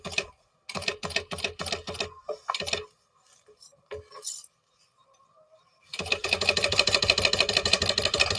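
A sewing machine stitches a garment lining in short rapid bursts of needle chatter, pausing between runs, then a longer continuous stitching run at the end; quiet handling sounds fill the gaps.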